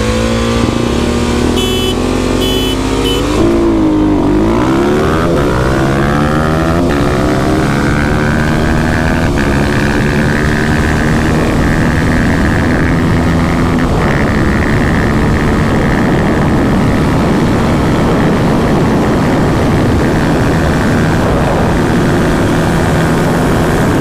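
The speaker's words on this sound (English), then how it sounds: "We're gonna go ahead and race these bikes so you guys can see the difference between" A 2021 Kawasaki KLX300SM and KLX300 race on a lot, their single-cylinder engines revving loudly and close, rising in pitch as they accelerate through gears, then holding a sustained high drone, with no talking.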